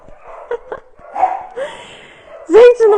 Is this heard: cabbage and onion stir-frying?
no